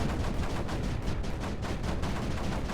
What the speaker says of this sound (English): There's a lot of mortars landing on it, though, which is nice.